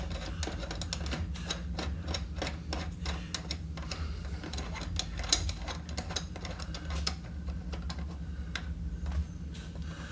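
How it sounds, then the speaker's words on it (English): A ratcheting wrench clicks in quick repeated bursts while tightening the mounting ring screws on a food waste disposer under a sink, with steady background hum and no talk. "you want to crank these things down kind of equally, so it doesn't twist that ring"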